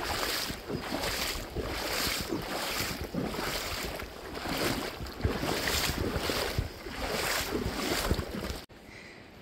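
Water running through a creek ford on Eagle Creek beneath red cliffs, a continuous rushing, splashing wash with rhythmic surges, close and fairly loud, with wind, ending in a sudden cutoff.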